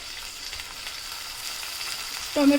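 Chopped tomato frying with garlic in a pan for a Malvani-style bangda fish curry, a steady soft sizzle throughout, with a brief louder clatter near the end.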